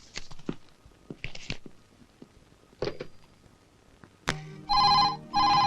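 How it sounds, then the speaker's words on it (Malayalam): Telephone ringing at a police station desk in an old Malayalam comedy scene: two loud, steady electronic ring bursts close by near the end, after scattered thuds and movement noises. "റാണി ഫോൺ എടുക്ക"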